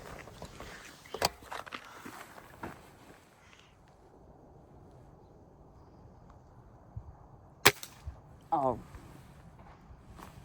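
A single sharp gunshot cracks out midway during an outdoor hunt for a pest bird among tree branches, short and fairly loud against quiet surroundings, with people talking before and after.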